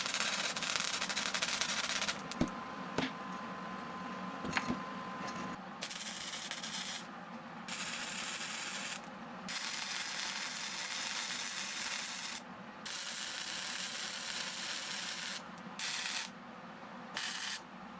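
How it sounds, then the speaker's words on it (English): Metal bottom plate being welded onto the sides of a coaster holder, a steady crackling, sizzling arc noise that runs continuously with short breaks and brief pops, close and fairly loud with no talking. "Then it was time to weld the bottom plate onto the sides."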